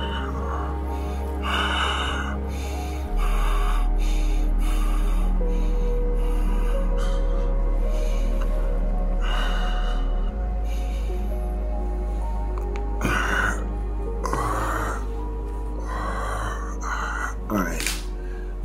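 Deep breathing exercise with strong inhales, heavy audible gasps and snorting breaths repeating in slow cycles close to the microphone over a low steady background hum.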